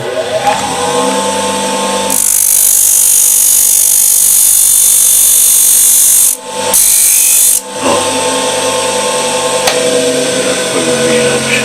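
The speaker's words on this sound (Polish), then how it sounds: "Daję do szlifierki." A loud power grinder whines against bamboo for several seconds while shaping a frame piece, briefly cutting out twice before grinding resumes, with quieter workshop noise before and after.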